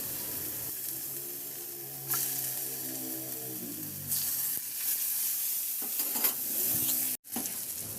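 Garlic and ginger sauté in oil in a pan, sizzling steadily and loudly up close, with stirring scrapes and a brief clatter of utensils.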